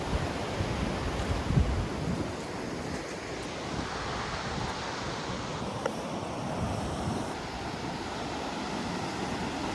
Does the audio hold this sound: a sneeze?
no